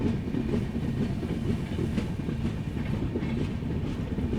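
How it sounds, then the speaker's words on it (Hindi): The 12445 Uttar Sampark Kranti train runs through Rajpura Junction without stopping, heard from on board as a steady low rumble with rapid rhythmic clatter of wheels over rail joints, continuous and fairly loud throughout. "हम अभी राजपुरा जंक्शन स्किप कर रहे हैं"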